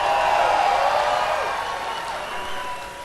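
A large outdoor crowd claps and cheers at a Seattle Sounders MLS Cup championship parade rally, a loud, continuous wash of applause and whoops that gradually eases off.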